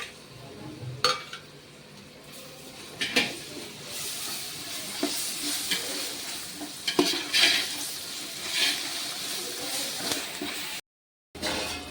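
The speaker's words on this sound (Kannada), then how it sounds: "ಮೆಣಸಿಕೆ ಹಾಕ್ಲಾಕತ್ತೀನಿ ಮತ್ತಂದ್ರೆ ಅವ್ರ ಜೋಡಿ ಕುಟ್ಟಂಥ ಮಸಾಲೆ ಮತ್ತಂದ್ರೆ ಅಲ್ಲ ಬೆಳ್ಳಿ ಪೇಸ್ಟ್ ಹಾಕ್ಲಕತ್ತೀನಿ ಇದು ಚಂದ ಫ್ರೈ ಮಾಡ್ಕೊಳ್ತೀನಿ" Chillies and ground masala paste frying in a pan for a mutton dish, a continuous loud sizzle with repeated metal spoon scrapes and clinks of stirring, briefly cutting out near the end, no talking over it.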